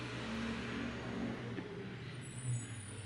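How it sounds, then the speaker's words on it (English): A garbage truck idles and rumbles outside, heard as a steady low engine drone with a faint hiss of air brakes, somewhat distant and muffled. "the garbage truck is outside."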